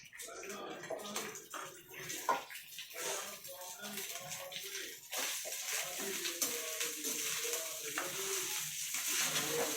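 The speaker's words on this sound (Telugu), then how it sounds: "ఆరబెట్టుకున్నటువంటి రైస్ని దీనిలోకి ఇలా వేసుకోవాలండి" Cooled cooked rice tumbles into a hot pan for jeera rice and is stirred, giving a continuous close scraping and soft sizzle with occasional spoon knocks, while a voice talks over it.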